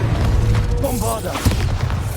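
A Bombarda spell explosion in the video game Hogwarts Legacy, a deep, muffled boom rolling under continuous game music and ambience.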